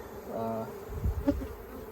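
A dense buzzing of bees hovering close around a beekeeper during a hive inspection, with a steady insect drone and a few louder passes sweeping near.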